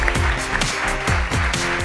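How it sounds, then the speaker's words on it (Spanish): Brief round of applause in a Spanish-speaking studio show, a dense wash of clapping with a few sharper individual claps and low thumps mixed in, lasting under two seconds. "¡Un, un aplauso!"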